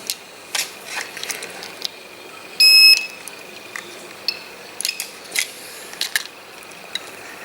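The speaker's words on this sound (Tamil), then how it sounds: "டயோடு ஷார்ட் ஆச்சுன்னா ரெண்டு சைட்லேயுமே பீப் அடிக்கும்." Multimeter beeping while testing a diode on a mobile phone circuit board: one short, clear, steady tone lasting under half a second amid faint clicks and light handling noise, with no talking.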